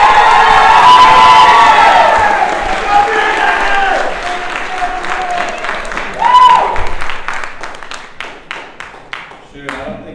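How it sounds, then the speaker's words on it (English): A loud crowd at an Iowa induction ceremony for Class 31A cheers and whoops, then settles into sustained clapping that thins to scattered claps by the end. "I don't think I've heard Iowa cheer that loudly since God invented corn"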